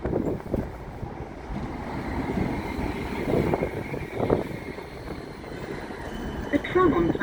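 A tram pulls into a stop at Edgbaston Village, a broad low rumble and rushing noise rising and swelling, with gusty wind-like texture, faint tonal squeals near the end, and voices mixed in.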